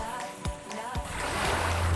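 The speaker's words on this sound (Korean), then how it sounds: "파도 소리는 언제나 좋아요." Sea waves on the coast at Tongyeong, South Korea, with a few sharp splashes early on, then a swelling, rushing wash that builds louder toward the end, heard close by.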